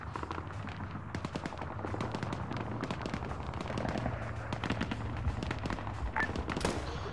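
Rapid bursts of rifle and machine-gun fire crackle through a firefight in the military shooter Arma 3 over an open field, dense overlapping shots near and far with a steady battle rumble beneath.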